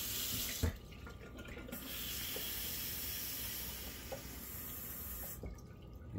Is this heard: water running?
yes